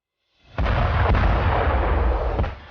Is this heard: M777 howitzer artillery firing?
yes